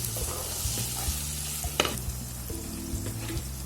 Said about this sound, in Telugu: ఇలా గోంగూర కూడా బాగా ఈ నూనెలో బాగా వేయించాలి